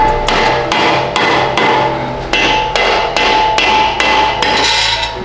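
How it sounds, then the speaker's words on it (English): A rubber mallet smacks a brake rotor on a car during an axle swap, about a dozen loud, evenly spaced blows close by, each with a short ringing decay. "Let's grab a rubber mallet so we can smack this rotor off."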